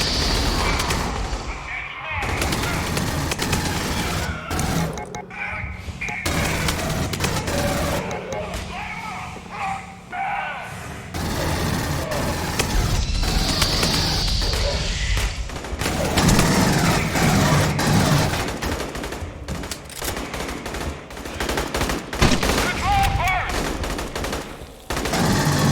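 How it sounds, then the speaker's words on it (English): Aliens: Colonial Marines gunfire, repeated bursts of shooting and booms running through a long stretch of game combat, with players talking over much of it. "It's no fun shooting these guns."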